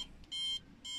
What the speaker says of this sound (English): So there you go, the middle 2 detects an invader.